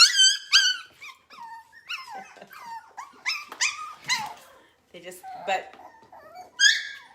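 A puppy growls and whimpers in short rising yelps and whines at a kennel, close and fairly loud, with a voice talking intermittently between the dog's sounds.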